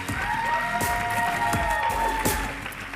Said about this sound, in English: a warm round of applause for Chinelo for sharing your incredible gift with us tonight